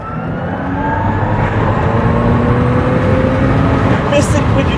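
A Tesla Roadster Sport 2.5 electric car drives through a tunnel, making a loud, steady, close whine and rumble with reverberant road roar and no pauses.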